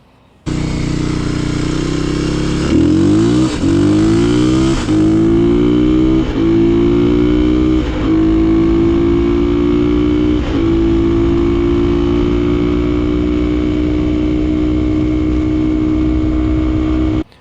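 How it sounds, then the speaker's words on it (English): Kawasaki KLX 250/300 dirt bike with an upgraded air box lid and reprogrammed ECU, accelerating hard through second to fifth gear; loud, close engine climbing in pitch with several quick gear-change dips, then holding a steady high drone. "We'll just pin it for second, third, fourth, fifth gear because your loudest noise is under heavy acceleration."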